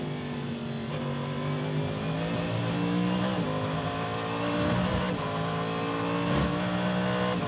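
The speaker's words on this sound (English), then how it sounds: "wonderful sound in the background of Simon Pagenaud's Cadillac V8 as it heads then into the international horseshoe" A Cadillac V8 race car roars around the Daytona circuit during the Rolex 24 endurance race, its steady, droning engine note sustained and shifting slightly as it holds speed at a moderate distance.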